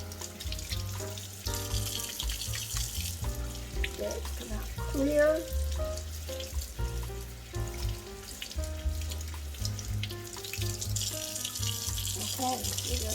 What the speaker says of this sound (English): I'm going to work the soap and the water through the brush.